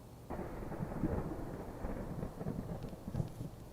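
A thunderstorm rumbles steadily, a broad low roll of thunder with a windy, rain-like wash that swells and lingers without speech.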